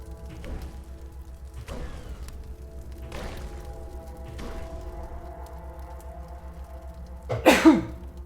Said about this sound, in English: And me sneezing.